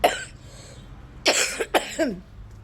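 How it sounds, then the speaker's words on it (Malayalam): A person coughs in a home garden: one cough at the start, then after a pause two sharp, close coughs in quick succession and a softer trailing one. "എൻ്റെ ചുമ തന്നെ പ്രശ്നമാണല്ലോ"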